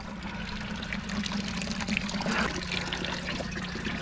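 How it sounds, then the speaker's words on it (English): A thin stream of water trickles and pours steadily from a pipe in a garden water supply, with a low continuous rush underneath. "we, are getting a, a little bit of flow there."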